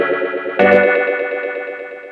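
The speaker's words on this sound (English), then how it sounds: "Now all of a sudden this thing's very different because it has these echo tails" A sustained electronic chord is run through a DJ bandpass echo effect, giving a bright, slightly distorted tone with a sudden swell partway through and repeating echo tails that ring on and slowly fade.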